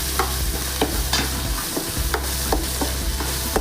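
Tomatoes fry in a pan with turmeric for an okra stir-fry, a constant close sizzle with the spoon scraping and clacking against the pan at a steady stirring rhythm, no voices.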